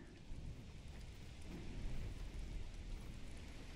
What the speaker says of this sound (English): The rain is so annoying, and so is the wind.